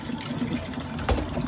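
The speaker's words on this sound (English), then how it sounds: "I like to rinse mine off a little bit." Water runs steadily over a large catfish being rinsed before filleting, a continuous close splashing wash with a brief louder gush near the end.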